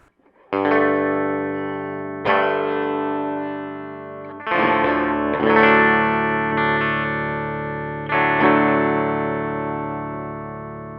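A clean electric guitar rings out several chords and notes through a Mojo Hand FX Kensrue ROOK overdrive pedal, each strum sustaining and slowly decaying, with a shimmering, effected tone.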